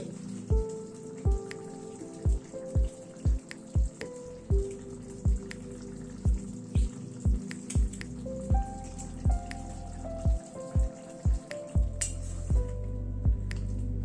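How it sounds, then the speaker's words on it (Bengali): Pointed gourd curry being stirred in a pan with Gandharaj lemon juice and zest: a steady run of soft, wet squelches and light clinks, close and fairly loud, over a tonal musical background. "সবকিছুকে একবার একটু মিশিয়ে দিলাম"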